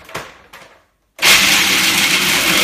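A food processor grinds a raw cheesecake base. A few short knocks come first, then a brief pause, then a loud steady motor whir that holds to the end.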